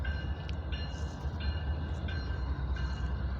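An intermodal freight train passes at night with a steady, heavy rumble and a continuous metallic squeal, the noise holding loud and even throughout.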